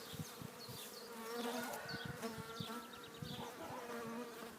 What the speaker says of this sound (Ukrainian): Отака реакція бджоли.